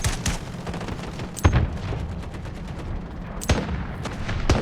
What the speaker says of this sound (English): I don't really see where all the gunfire is going to.